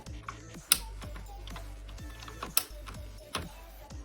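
A mechanical keyboard with Red switches gives scattered, close, sharp key clicks and clacks at an uneven pace, several louder presses standing out.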